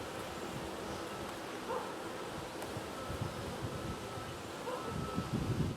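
A low, steady drone of many bees buzzing around a hive, faint and continuous with some rustling bumps throughout.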